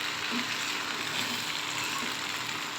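Goat meat frying in oil in a wok, a steady close sizzle and crackle holding evenly with faint stirring scrapes.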